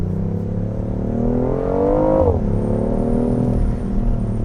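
A 2019 BMW i8 Roadster's 1.5-litre three-cylinder twin-turbo engine revs up close and loud, its pitch climbing smoothly to a peak and then dropping back to a steady hum.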